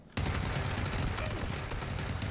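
Rapid video-game gunfire bursts in suddenly during a fight in a mansion, loud and close, with dense overlapping shots that continue without a break. A player's voice is faintly heard beneath it.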